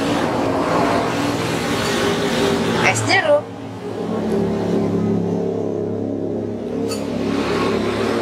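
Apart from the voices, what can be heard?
road traffic, cars passing on a busy main road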